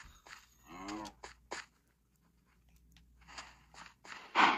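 Cows in a Minecraft-style farming game moo in several separate calls, one long resonant moo followed by shorter ones, with quiet gaps and crunchy game sounds between them.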